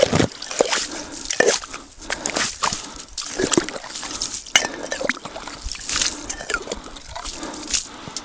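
Water scooped from a lake through thin, barely formed ice, with sloshing, splashing and dripping plus light clinks of a container, close by and busy throughout with no talk.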